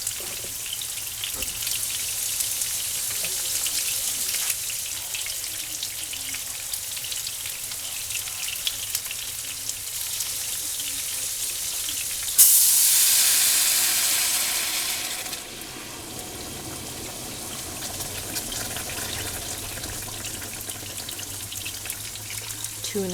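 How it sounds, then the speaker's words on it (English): Pork chops frying in a pan with steady soft crackling, then water is added and a loud hissing sizzle bursts up for a few seconds before easing back to a quieter fry. "I need to get my water, so that's going to make a loud sizzle sound."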